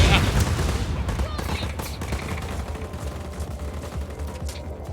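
Rapid gunfire from the open-world action game Just Cause 4, loud overlapping bursts of shots and impacts that keep up steadily, with a voice talking over the shooting.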